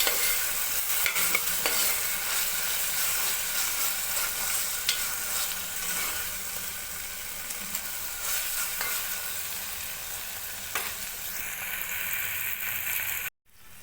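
Ginger paste sizzles in a hot pan of oil for egg biryani. A steady hiss of frying goes on under occasional scraping stirs, close and even, and ends with a sudden cut.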